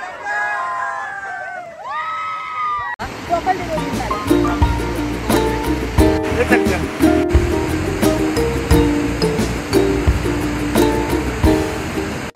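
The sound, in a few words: monsoon waterfall in the Sahyadri forest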